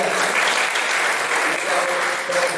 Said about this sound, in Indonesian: Sekali lagi kita tepuk tangan untuk Sri Kandi kita Bawaslu Wahaya